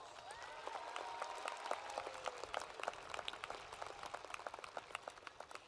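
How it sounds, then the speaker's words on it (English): Applause from a high school graduation crowd honoring counselors, building into a sustained wash of hand claps with sharper individual claps standing out near the end. "Please give them a round of applause."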